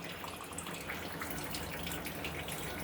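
Tap water runs steadily while raw rice and moong dal are washed for ven pongal, a continuous close splashing hiss with small drips and no talking.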